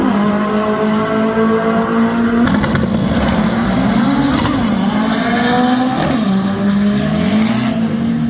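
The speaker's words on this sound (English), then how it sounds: "That's some serious wheel hop right there." A Volkswagen drag car launches at a drag racing event, its loud engine revving close by with harsh, stuttering pulses as the wheels hop, then pulling away.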